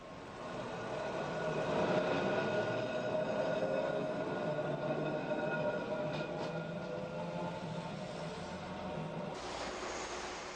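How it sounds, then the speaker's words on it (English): Vintage and newer trams on a British seaside resort's promenade line rumble along steadily, a continuous rolling rail sound with a brief high screech near the end, heard alone without voices. "There are also various newer trams."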